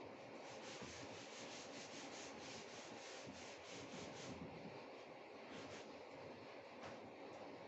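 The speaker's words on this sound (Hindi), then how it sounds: "अब मैं यहाँ पे आपकी जो डायग्राम है इसको मैं रब कर रहा हूँ" A diagram on a classroom board is being erased, producing a steady, close scrubbing and rubbing in rhythmic strokes that runs the whole time without pause.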